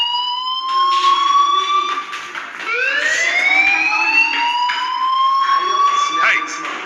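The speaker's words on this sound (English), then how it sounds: "do you hear that fire alarm?" Loud electronic fire alarm wails in the video game Life is Strange, a rising and falling tone repeating steadily for several seconds, with no talk over it.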